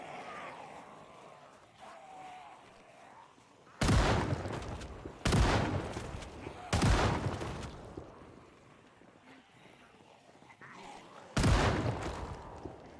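Video game gunshots go off as loud sharp bursts, four in quick succession over a few seconds and one more after a quieter stretch of low ambient rumble.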